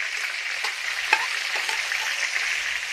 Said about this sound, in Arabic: هنحط بصل كده مفروم زي انتوا شايفين الشكل.